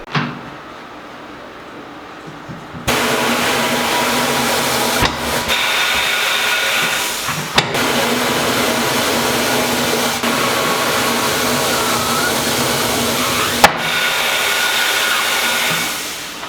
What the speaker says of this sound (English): this little 20-gallon compressor is very loud, literally kicked on after breaking the beads on both sides